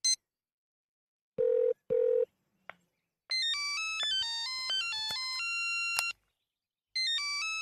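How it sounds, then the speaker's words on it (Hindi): A telephone rings twice in short bursts, then a rapid run of bright electronic dialing tones plays for several seconds before another ring begins. "राज, तुम मुझे फोन कर रहे हो?"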